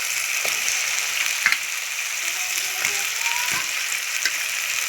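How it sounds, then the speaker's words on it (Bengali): Chicken sizzles in a spiced masala of ginger, garlic, onion, green chilli, tomato and cumin that has released its oil, a dense continuous frying hiss with faint pan knocks and no talking. "মশলায় তেল ছেড়ে দিয়েছে, আমি এবার চিকেনগুলো দিয়ে দেবো।"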